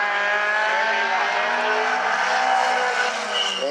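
A midget race car from the Northwest Focus Midget Series on a qualifying lap at South Sound Speedway, July 2019, its engine a loud, sustained high-pitched drone holding steady with slight pitch shifts, with no voices.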